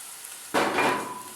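Spring onion drops into hot oil in a pan, a sudden loud sizzle bursting up from near quiet and then hissing steadily, with no talking.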